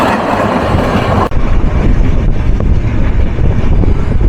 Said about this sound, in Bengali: বিপরীত পাশ থেকে আমাদেরকে থ্রু পাস করে গেল ঢাকা থেকে চট্টগ্রাম অভিমুখী আন্তনগর মহানগর এক্সপ্রেস